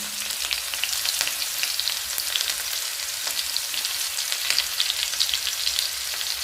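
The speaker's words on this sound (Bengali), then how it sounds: "আদা রসুন সব কিছু একসঙ্গে তো কষাতে হবে, ততক্ষণ কষাবো" Ginger and garlic sauté in a pan for a vegetarian dinner, giving off a loud continuous bright sizzle with crackling spits and occasional stirring noises, steady throughout with no talking.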